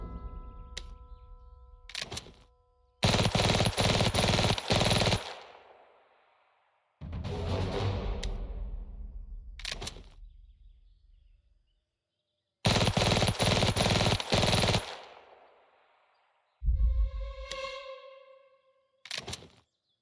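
Heavy machine gun fire in the wargame Valor & Victory, several loud sustained bursts separated by silent gaps, each ending in a decaying tail, followed by a short tonal chime and a final brief burst.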